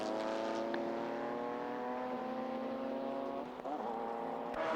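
Race cars in a 1996 JGTC race, including the number 61 McLaren: a high, steady engine whine held at full throttle, then a pitch shift and a gear change as a car passes, with crowd-free trackside noise and no talk.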